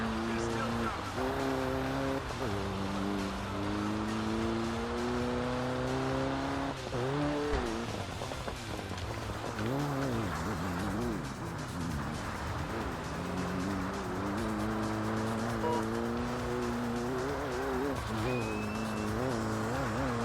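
Rally car engine in the Xbox game RalliSport Challenge 2, a steady droning motor with rising and falling pitch as gears shift, continuous and fairly loud throughout, with a voice talking over it.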